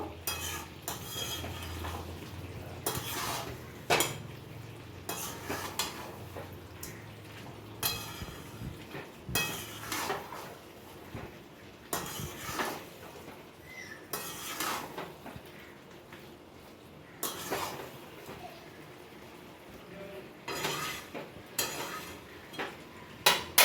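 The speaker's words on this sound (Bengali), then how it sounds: "আলু দিয়ে আর ভালোভাবে কষতে থাকবো" Meat and potatoes stir-fried in a pot, with repeated spoon scrapes and clanks against the metal over a low sizzle. The stirring strokes come in uneven bursts through a long stretch with no talking.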